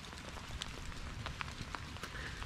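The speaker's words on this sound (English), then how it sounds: "Now it's starting to rain." Rain beginning to fall outdoors over a cleaned front garden bed in cold winter weather, a soft continuous patter with scattered sharper drops tapping nearby, no voices.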